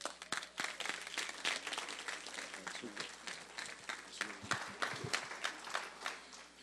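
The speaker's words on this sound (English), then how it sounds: "Please give that voice from God another round of applause" An audience applauds a speaker at a Black History Month event: a sustained round of clapping from a crowd in a hall, moderately loud and continuous with uneven swells, and some voices mixed in.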